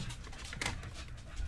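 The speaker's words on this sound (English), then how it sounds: "There's a cute dog." A dog panting softly at close range, quick breathy puffs running through the short stretch with a small whimper-like tone in the middle.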